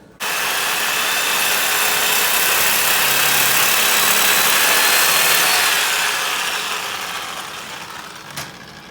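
A length of PTFE line held in a vise is cut, giving a steady, loud, continuous rasping that runs for about eight seconds before tapering off, with a faint tap near the end.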